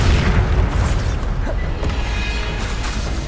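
Bombarda blasting spell from Hogwarts Legacy on PS5, a deep booming explosion that rolls on continuously under dense game effects for the whole stretch, loud and close, with no talking.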